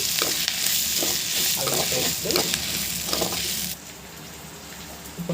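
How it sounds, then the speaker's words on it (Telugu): Ginger garlic paste fries with onions in a pan, a loud continuous sizzle broken by several clattering stirs of a spoon, before the frying noise drops to a quieter hiss for the last seconds. "ఇందులో ఒక స్పూను అల్లం వెల్లుల్లి పేస్ట్ వేసుకోండి పచ్చివాసన పోయే వరకు బాగా వేగనివ్వండి"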